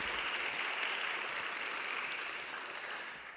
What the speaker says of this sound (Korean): 한 번 더 박수를 부탁드립니다.